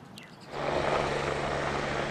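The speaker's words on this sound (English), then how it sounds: "Helicopter teams are still dropping water on two wildfires that continue to burn on Maui." A steady mechanical engine roar swells in after a quiet start, a firefighting helicopter droning at a moderate distance over Maui wildfires, constant and unbroken.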